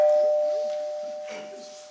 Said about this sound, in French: Tu nous remets un petit coup de sonnette, s'il te plaît